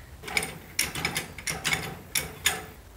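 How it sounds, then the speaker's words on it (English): A jack ratchets in short, irregular bursts of light metallic clicks while raising the rear of a lawn mower for a tire change, close and fairly quiet with no voices. "We're gonna have to jack up the back."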